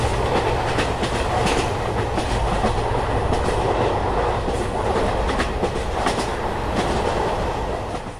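A train in India runs along flooded tracks during the rainy season, giving a continuous loud rumble with rhythmic clickety-clack of wheels and rushing water, steady throughout with no voices.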